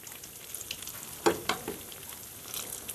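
Oil sizzles steadily in a pan on an electric stove, with a few brief louder crackles and spatters as dough pastries fry, no voices present.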